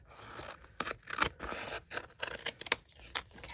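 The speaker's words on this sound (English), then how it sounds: "my scissors and just snip this to the end" Scissors snip through an adhesive-backed sheet of white paper in a run of close, crisp cuts with short scraping rustles between them, heard alone with no voice.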